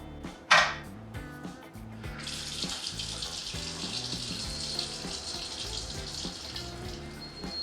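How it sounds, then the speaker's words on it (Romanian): Tap water gushing steadily into a kitchen sink to flood a smart-home water leak sensor, a loud continuous rush that starts after a sharp knock and keeps running over a low background hum. "îl punem în ghiuvetă și dăm drumul la apă"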